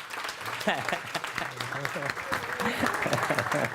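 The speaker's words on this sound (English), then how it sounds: "just give me a big round of applause" Audience applause at a live event, a continuous crowd of clapping running throughout while a person talks over it near the microphone.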